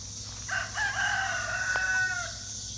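Young rooster crowing once, a drawn-out cock-a-doodle-doo lasting about two seconds, clear but moderately distant over a steady low background hum.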